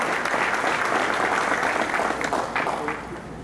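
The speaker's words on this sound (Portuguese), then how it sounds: "Uma salva de palmas, senhoras e senhores." Sustained applause from an audience fills the hall at the official opening of the Iguaçu Falls tourism festival, steady dense clapping throughout that thins and fades slightly toward the end, with no talk over it.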